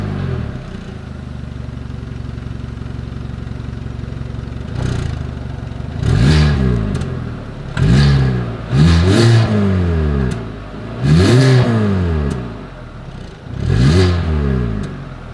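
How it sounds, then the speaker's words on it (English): 2022 Hyundai Venue exhaust revved repeatedly at idle: a steady low engine hum broken by five or six sharp rising-and-falling revs, close and loud, with no talking. "As always, here is that exhaust clip."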